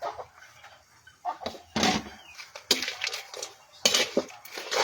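A metal lid clanks onto a cooking pot of crayfish with long chilies, set among several sharp clattering knocks of cookware, moderately close, with no talk.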